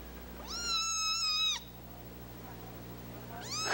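Kittens meowing close up, one long drawn-out meow followed by a pause and the start of another, against a quiet low background hum.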